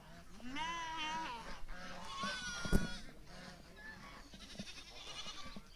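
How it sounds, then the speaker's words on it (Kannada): Goats bleating in an animal enclosure alongside chickens, several wavering nasal calls close by with other animal calls overlapping and a sharp knock midway, no talk. "ಇಲ್ಲಿ ನೋಡ್ರಿ, ಇಲ್ಲಿ ಈ ಸೈಡಲ್ಲಿ ಮೇಕೆಗಳಿದೆ."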